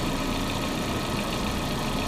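A 1999 Volkswagen Passat with a 1.8T engine idles roughly with a faulty mass airflow sensor, giving a steady, close, continuous engine rumble with a slightly uneven texture and no voices.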